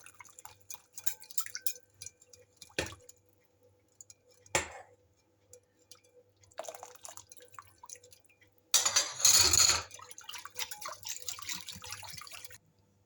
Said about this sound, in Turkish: çorbanın suyunu azar azar içine döküyorum ve karıştırıyorum.